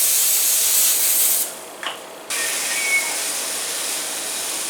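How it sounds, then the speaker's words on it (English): A cooking oil spray hisses in a long, steady burst, cuts out for a moment with a faint click, then sprays again continuously, coating a chaffle maker. "I'm going to give this a spray"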